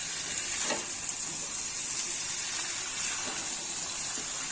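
Mutton frying and being stirred in oil in a village-style pot, giving a steady, close hiss of sizzling with faint scraping of the stir throughout, no voices.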